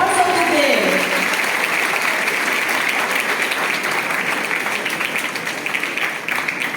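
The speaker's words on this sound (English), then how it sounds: "And so let us clap for our teachers." An audience at a Teacher's Day celebration claps for the teachers, a loud, dense and steady applause that fills the whole stretch, with some speech underneath.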